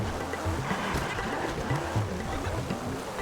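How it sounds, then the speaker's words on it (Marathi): A Porsche car in GTA 5 driving through water, with a steady wash of splashing and churning water under a low engine drone, loud and continuous, while someone talks over it. "पाण्यात कुठलं पण चालवायला लागली गाडी"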